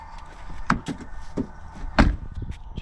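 A Suzuki Swift Sport five-door's rear door opened by its hidden handle, giving a few sharp clunks and clicks of the latch and door, with a firm thud near the end.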